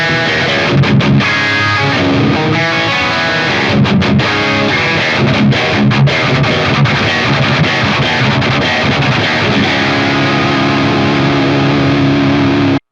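Electric guitar lead tone through a split-coil bridge pickup with added gain, loud distorted notes and phrases played continuously, ending with a sudden stop.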